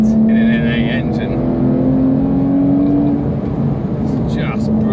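Naturally aspirated engine of a Porsche 911 GT3 997.2 droning steadily at cruising revs from inside the car while driving, a continuous loud hum with road noise beneath it.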